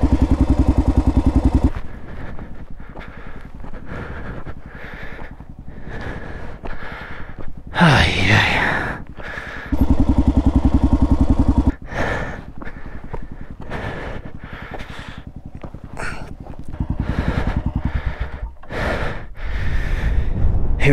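Kawasaki KLR650 dual-sport motorcycle engine working a difficult spot on a rough mountain pass trail, loud with uneven revving bursts and pauses, wind buffeting the microphone, no talk.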